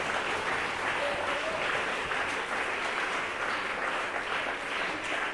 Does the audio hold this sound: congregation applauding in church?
yes